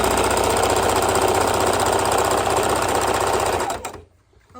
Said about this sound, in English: I'm sewing around the top edge